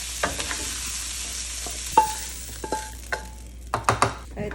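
Pumpkin stir-fried in a wok for a savory Chinese pumpkin rice dish: a steady soft sizzle under repeated sharp scrapes and clacks of a spatula, close and fairly quiet, with no talking.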